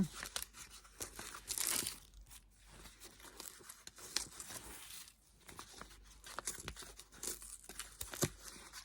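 A small paper envelope from a diamond painting advent calendar is torn open and crinkled nearby, quiet rips and rustling in short bursts with pauses, no voices.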